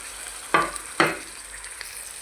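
Onion and garlic with garam masala fry for a spicy chicken bhuna, a low steady sizzle punctuated by two sharp stirring scrapes close together and a fainter one after, without voices.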